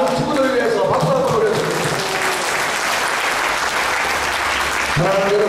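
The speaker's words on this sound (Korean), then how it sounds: "이 매주마다 숨어주신 우리 나눔 친구들을 위해서 박수 한번" A church congregation applauds for its volunteers who serve the homeless each week, steady dense clapping that fills the room close by, with a voice speaking over the start of it.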